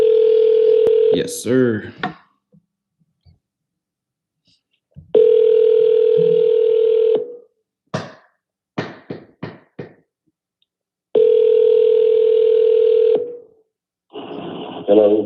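A phone call being placed to a for-sale-by-owner seller: a steady dial tone in three long stretches, broken by quick bursts of keypad dialing tones, with a brief spoken reply near the start.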